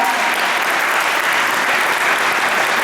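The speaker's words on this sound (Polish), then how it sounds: "Brawa." Steady, dense applause from a crowd, clapping continuously and loudly throughout with no pauses.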